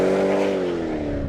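A Mercedes CLK55 AMG V8 tuned to about 600 horsepower roars loud and close under hard acceleration, its engine note holding and then dropping slightly as it pulls, with no talking.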